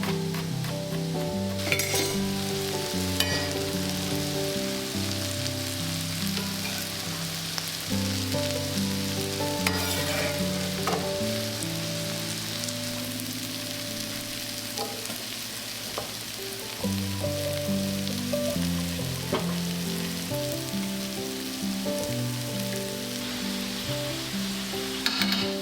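Vegetables frying in a pan at home, a steady broadband sizzle that runs the whole time with soft scraping from stirring and a few sharper clicks from the utensil, fairly close and even in level.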